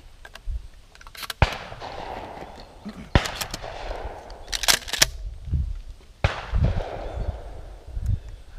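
Shotgun blasts at a sporting clays range, several sharp, loud reports spaced a second or more apart outdoors, each with a short ringing tail, with faint movement and quiet sounds between shots.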